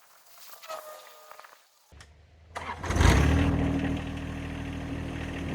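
A tractor engine cranks and catches after a quiet pause, then settles into a loud, steady low rumble that runs to the end.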